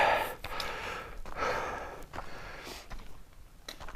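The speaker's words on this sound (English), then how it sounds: "I apologise for the heavy breathing" Heavy, labored breathing from a hiker on the Kaibab Trail at the Grand Canyon North Rim, close and repeated in uneven gasps and exhales, with faint footfalls between breaths.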